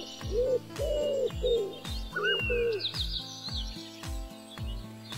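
Cartoon pigeons coo in short repeated phrases over a bouncy, rhythmic plucked backing tune, with a few higher chirps and slides between the coos.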